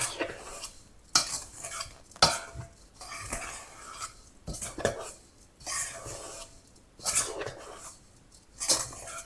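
A crumble mixture of sugar is stirred in a bowl, making repeated close scraping and rustling strokes in an uneven rhythm, with short quiet gaps between bursts and no talking.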